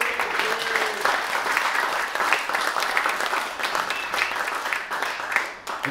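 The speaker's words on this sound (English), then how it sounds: "Let's have another round of applause for Drew" Another round of applause rises from a comedy night audience, a dense, continuous clapping from many people that holds steady and dips slightly just before the end.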